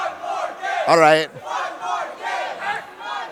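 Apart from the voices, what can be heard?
crowd cheering at Splatoon esports grand finals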